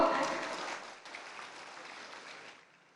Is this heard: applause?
yes